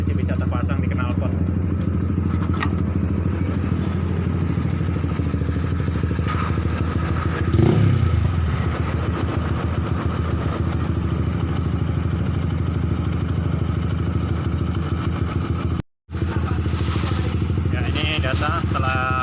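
A Honda Sonic motorcycle fitted with a racing exhaust runs steadily at idle, a loud continuous engine drone with occasional clatter and thumps, heard close up beneath someone talking.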